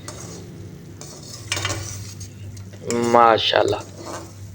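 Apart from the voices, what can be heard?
stirring fried pakoras into spice masala in a pan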